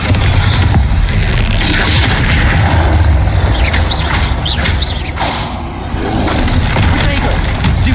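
A Confringo blasting-curse spell explodes in Hogwarts Legacy, loud booming blasts over constant combat noise, with a player's voice shouting spell names.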